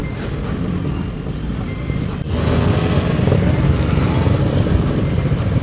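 A group of motorcycles from a club in Bekasi rides together at night, with a loud, steady engine roar close by and a sharp knock partway through, the noise swelling after it.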